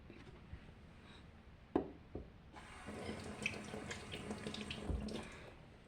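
Tap water runs steadily into a sink as two eggs are rinsed under it, with a few knocks and clinks early on before the stream opens up fully and keeps splashing.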